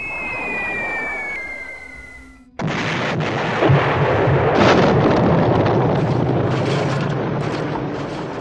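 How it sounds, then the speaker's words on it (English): B-24 bombs fall with a descending whistle, then a sudden loud explosion gives way to a heavy, rolling rumble that fills the rest of the stretch. "The B-24s drop their bombs."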